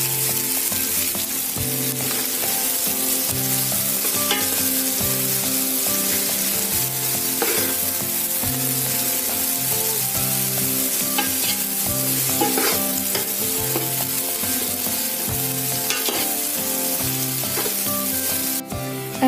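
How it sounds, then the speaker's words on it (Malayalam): Carrots, beans and other vegetables sauté for a veg pulao, a loud, continuous sizzle in the pan with steady stirring and scraping throughout, and no voices. "ഇനി നന്നായിട്ട് ഒന്ന് വഴറ്റിയെടുക്കാം."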